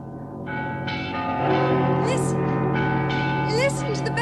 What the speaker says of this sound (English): Listen to the bells. They're like plunging horses in the sky.